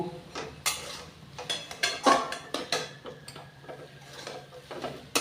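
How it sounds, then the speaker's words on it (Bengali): A spatula stirs leafy greens with prawns and rice flour in a pan, giving close, irregular clinks and scrapes against the metal, with no talking. "এবারে পুরো শাকটার সঙ্গে এটা দিয়ে পুরো মিশিয়ে নেব"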